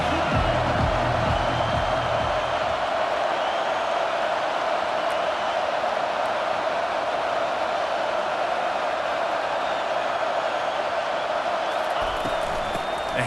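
Stadium crowd cheering and roaring in a College Football 25 game, Alabama against Tennessee, as a third down approaches; a steady, dense wall of noise sits close and loud through the whole stretch.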